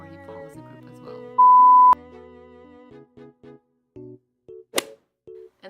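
Electronic beep sounding in a conformity experiment waiting room: one long steady tone, loud and clear, over a quiet background of soft sustained tones and short repeated pulses.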